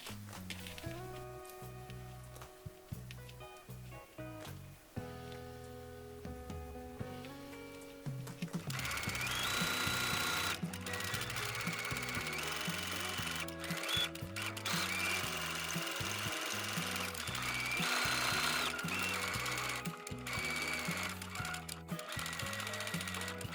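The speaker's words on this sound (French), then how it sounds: "Ensuite, je vais coudre à la machine et ensuite je retourne tous mes petits piments." A sewing machine stitches small lavender sachet pieces, its mechanical whirr and rattling running steadily and growing louder partway through, with no talking.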